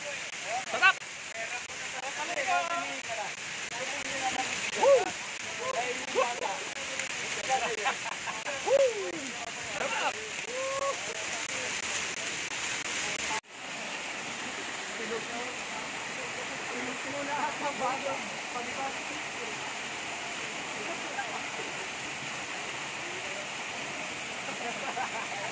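A waterfall rushes steadily in the background, a constant broad roar, while people talk and call out over it in the first half before the water noise carries on mostly alone.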